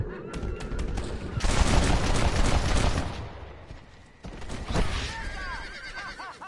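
Rapid gunfire crackles in Red Dead Redemption, dense bursts of shots with a brief lull before more firing, a horse whinnying near the end, and someone talking over the action.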